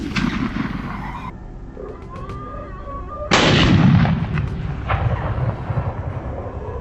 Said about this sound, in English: I immediately opened fire and took down the first wild boar